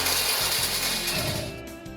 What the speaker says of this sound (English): you can hear the friction and the rubbing together